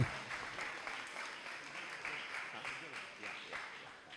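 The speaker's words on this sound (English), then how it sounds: "This applause can be smaller because she's taking it on behalf of someone." A crowd at a Universal Brotherhood Day 2023 award ceremony claps for a doctor accepting an award on someone else's behalf, steady continuous applause with voices murmuring underneath.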